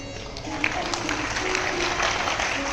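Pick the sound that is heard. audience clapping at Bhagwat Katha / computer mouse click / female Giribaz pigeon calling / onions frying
audience clapping at Bhagwat Katha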